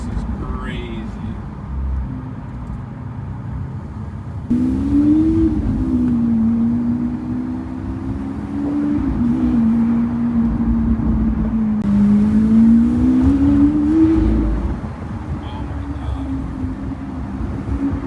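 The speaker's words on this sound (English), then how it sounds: "Just the downshifts in this car, everything sounds like you are going fast when you're just going city speeds." Lamborghini Aventador engine revving and downshifting while driving at city speeds: a loud, close, rumbling roar that rises and falls in pitch through repeated throttle blips, swelling and easing across the span.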